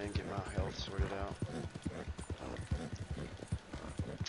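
Horse hooves clip-clop steadily in Red Dead Redemption 2 online, a quick, even beat of soft thuds under a voice talking over the top.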